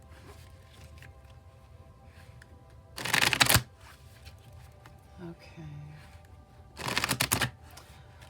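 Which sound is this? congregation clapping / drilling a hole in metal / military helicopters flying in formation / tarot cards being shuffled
tarot cards being shuffled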